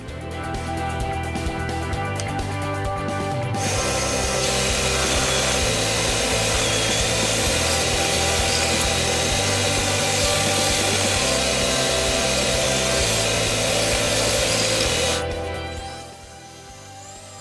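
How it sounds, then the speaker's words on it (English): Belt sander grinding the corners of an end-grain wooden cutting board round, a loud continuous abrasive roar that runs steadily for about eleven seconds, then cuts off into quieter motor hum. "I'm marking off the corners so I could take it to the belt sander and round them over."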